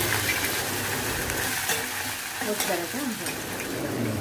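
Cumin, ginger and curry leaves tempering in hot oil for a patodi curry, giving a steady close crackle and sizzle with a few light stirring scrapes, no talk.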